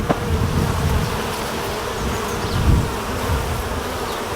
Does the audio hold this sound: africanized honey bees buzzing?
yes